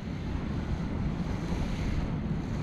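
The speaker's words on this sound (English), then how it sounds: "But today, because it's quite windy, I'm gonna be running a very long leader" Strong wind and waves at the foot of huge sea cliffs, a steady low rushing roar with gusty buffeting across the whole stretch and no voices.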